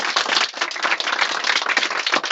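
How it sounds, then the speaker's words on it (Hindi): Audience clapping in a lively hall, dense and continuous hand claps filling the whole stretch at close range with no talk over them. "वाह वाह, तालियां जा रही हैं।"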